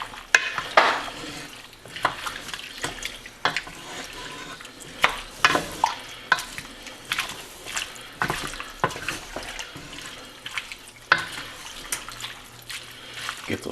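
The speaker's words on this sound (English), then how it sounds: "Stir that all up." Chop suey being stirred in a pan after a thickening agent is added, soft scraping and liquid stirring with irregular clicks and knocks, fairly quiet and close, with some talking over it.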